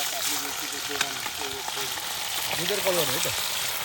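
Meat fries in a pan over a village fire with a loud, dense, close sizzle that runs throughout, while voices talk over it.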